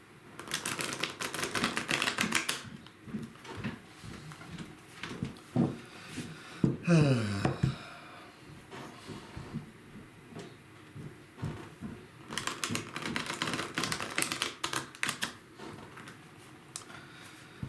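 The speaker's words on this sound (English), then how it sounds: "just the sounds of the cards are meditative to me" Tarot cards shuffled by hand in bursts of crisp riffling and soft snapping, close and fairly quiet, separated by pauses and a few handling rustles.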